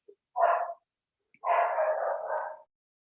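A dog indoors barks at someone outside the front of the house: one short bark, a pause of about a second, then a longer run of rough, moderately loud barking.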